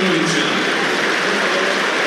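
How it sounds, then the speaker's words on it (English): Stadium applause rings out before the anthems at a Serbia versus England World Cup qualifier, a steady, dense wash of clapping from a large crowd. "Hence the applause ringing around the stadium."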